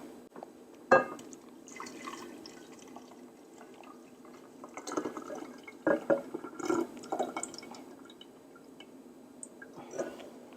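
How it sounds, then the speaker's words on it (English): Mango chai iced tea splashes and trickles into a pitcher in a few short bursts, with quiet drips and glassy clinks between pours. "we're going to pour this into our pitcher"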